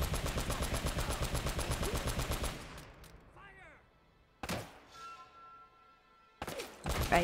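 Rapid automatic gunfire in the game Uncharted: Drake's Fortune, a dense, even burst of shots for about two and a half seconds, followed by scattered impacts and a couple of loud single shots.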